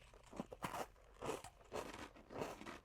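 Crisp, airy, buttery spiced Dutch cookies being bitten and chewed close up, with about five bursts of crunchy crackling spaced roughly half a second apart and no talking.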